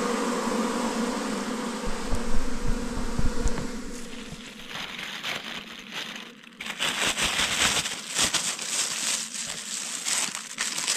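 Swarming wild forest bees hum densely and continuously around a hive being harvested, loud and close, with crinkling, crushing handling noises of comb and wood breaking in through the second half.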